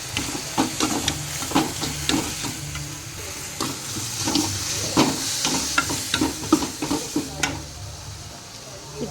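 Tomato gojju sizzles and fries in a pan with turmeric, salt and chilli powder added, while a spoon stirs it in repeated scraping strokes over a steady bubbling hiss, close and moderately loud.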